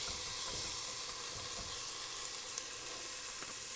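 Garlic, onions and red bell peppers sizzle in a frying pan, a steady close hiss of frying with faint crackles and no voices over it.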